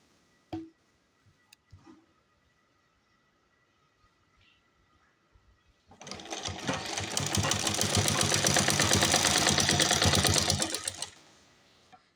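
An electric sewing machine stitching salwar fabric, a few faint clicks and then a loud, steady rapid whirring run of about five seconds that stops abruptly, close up.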